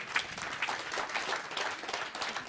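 Audience applause at a public event in Leeuwarden, a continuous, fairly soft patter of many hands clapping at an even level with no talk over it.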